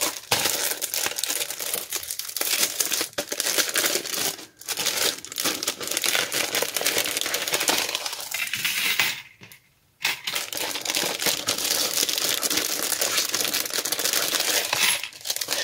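A large cutting die for making a whole card being unwrapped, with continuous loud close crinkling and crumpling of packaging, a few sharp tearing bursts, and a brief pause midway.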